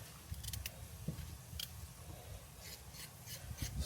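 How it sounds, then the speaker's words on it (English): A knife scrapes the skin of a raw carrot while vegetables are prepared for red peas soup, giving a steady series of soft rasping strokes close by, with no talking. "scrape my carrot"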